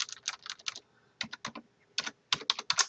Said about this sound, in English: I can just over type the title that I want.